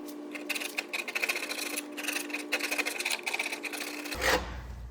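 A scraper drags across softened paint on a 1963 Corvair in quick, steady back-and-forth rasping strokes over a constant electrical hum, close by, ending in one harder, louder scrape.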